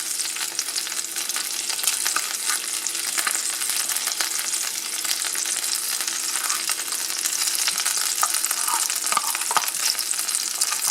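Corned beef sizzles and crackles steadily in a frying pan, a dense, continuous hiss with occasional scraping of a utensil stirring the meat, close and fairly loud throughout.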